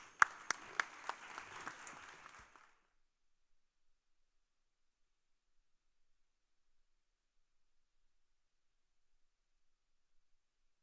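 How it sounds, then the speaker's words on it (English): An audience at a global summit gives a short burst of applause for their professors, with a few sharp claps at the start of a dense round that fades out after about two and a half seconds into near silence. "Professors, you should applaud your professors."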